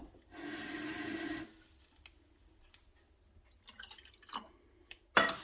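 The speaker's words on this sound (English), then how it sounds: "We're gonna add the cold water to each." Cold water pours from a container into a pan of Jello mixture on a stovetop in a short, bright gush of about a second. Afterward come quiet drips, light clinks and a sharp tap.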